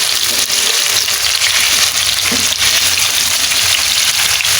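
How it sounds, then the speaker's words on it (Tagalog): Tofu deep-fries in hot oil with a loud, continuous close-up sizzle and crackle, dense and steady throughout, with no voices. "Kasi nakailangan naka-deep fry."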